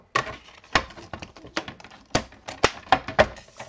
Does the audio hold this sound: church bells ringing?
no